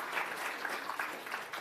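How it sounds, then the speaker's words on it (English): Audience clapping in a museum lecture theatre after a talk, a continuous even patter of many hands, moderately loud and close, with no speech over it. "can we have another round of applause for Speaker Annie?"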